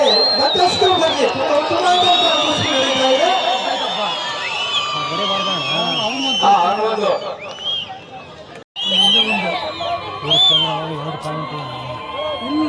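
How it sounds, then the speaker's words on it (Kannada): Spectators at a traditional kusti wrestling tournament in Ganjam cheer, whoop and shout in a dense, steady roar, with a voice talking over the crowd and a brief drop near the end. "ಜೋರಾದ ಚಪ್ಪಾಳೆ ಮತ್ತಷ್ಟು ಬರಲಿ"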